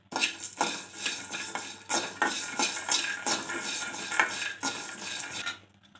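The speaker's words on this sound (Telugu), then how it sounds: "ఇప్పుడు ధనియాలు వేసుకొని వేపుకోవాలి" Coriander seeds being dry-roasted in a pan for a stuffed eggplant dish, a busy stream of rattling, scraping stir strokes and light clinks of utensil on metal, close and fairly steady before fading at the end.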